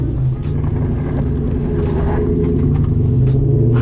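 A car fitted with a drag pack setup and sticky rear tyres drives off, its engine rumbling loudly and steadily close by while the tyres pick up and flick rocks, with faint ticking hits over the drone.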